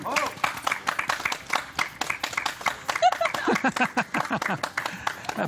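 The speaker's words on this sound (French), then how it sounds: "applaudissements pour Michel" Applause for a contestant on a live French TV call-in show, dense rapid clapping from a studio audience filling the stretch at moderate level, mixed with some cheering voices.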